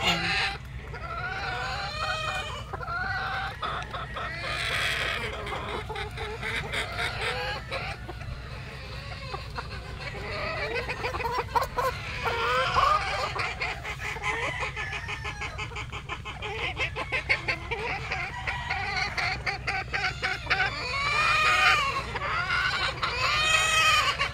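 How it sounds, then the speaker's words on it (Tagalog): Many hens cluck and chatter continuously in a crowded breeding pen, overlapping calls close by with a constant low hum underneath. "ito yung ating mga inahin dito sa ating breeding pen"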